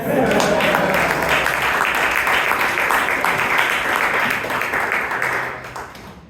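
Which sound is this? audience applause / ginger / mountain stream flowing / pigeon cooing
audience applause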